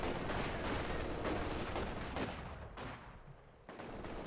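Game battle in Company of Heroes 2: a machine gun rattles continuously in a dense fusillade with sharper field-gun blasts. It is fairly faint and gets thinner toward the end.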